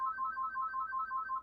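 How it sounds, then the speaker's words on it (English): A phone ringtone plays alone in a steady repeating two-tone electronic pattern, fairly quiet and continuous. "Jamie, the phone's ringing."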